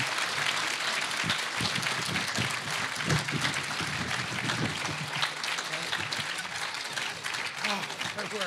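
An audience at a UFO talk applauds to welcome a speaker, a steady sustained wash of clapping from a sizable crowd that continues throughout, with no voices standing out.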